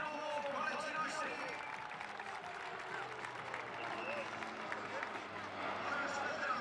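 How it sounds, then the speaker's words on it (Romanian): An air show crowd applauding for a Spartan military plane display, a distant, even patter of clapping, with an announcer speaking over it. "Aplauze pentru colegii noștri!"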